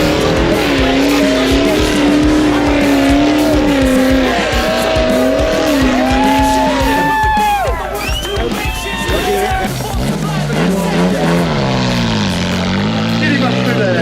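Off-road rail buggy engine revving hard as it climbs a hill at an off-road park in Kentucky, loud and near, with rising and falling pitch sweeps and crowd talk mixed in.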